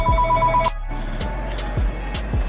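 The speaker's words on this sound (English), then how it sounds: "phone's starting to ring now" A telephone rings indoors in repeated electronic bell bursts, fairly loud and near, with a short gap in the middle before the ringing resumes.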